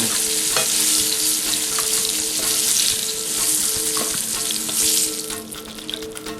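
Pieces of salmon for salmon piccata frying in a hot pan, a loud continuous crackling sizzle with occasional sharp pops and a low steady hum underneath, no voices.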